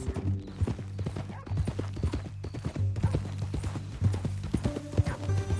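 Horse hooves clip-clop steadily and close in the Red Dead Redemption 2 open-world western game, a continuous rhythmic gait over a low game ambience, with an occasional faint whinny.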